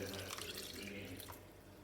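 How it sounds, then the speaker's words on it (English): Coconut milk poured into rice, a soft liquid trickle with faint drips, steady at first and then tapering off, close and quiet in a kitchen. "So I'm pouring the coconut milk"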